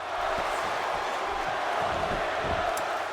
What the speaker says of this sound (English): Crowd here in DC behind Dolph Ziggler.